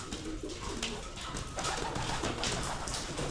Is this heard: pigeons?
yes